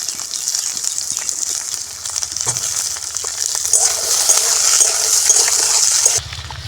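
Carrots, beans and capsicum being stirred in a pan for a Bengali mixed vegetable paneer dish, soft scraping and light sizzle close by with a few clinks of the spoon.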